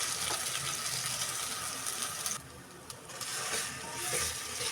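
Masala paste with onions being stirred and fried in a pan, a steady close sizzle with scraping stir strokes throughout, briefly dipping in the middle before resuming.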